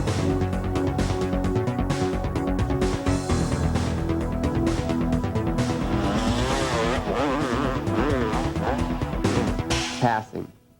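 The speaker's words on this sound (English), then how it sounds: "slip the clutch and gas it to keep your momentum smooth and slingshot out of the corner" Motocross bike revving hard out of a berm corner with the clutch slipped, a loud buzzing two-stroke-style engine note rising and falling in pitch, mixed with other engine sound, before cutting off abruptly at the end.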